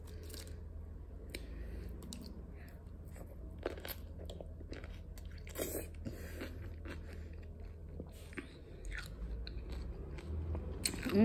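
A chamoy pickle is bitten and chewed up close, with repeated wet crunches and bites spread over several seconds against a quiet background.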